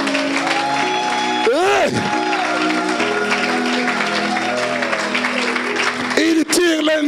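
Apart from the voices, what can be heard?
crowd applauding and cheering in church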